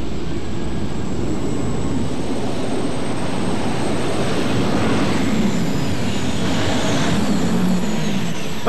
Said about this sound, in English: The RPM's coming up in those turbines.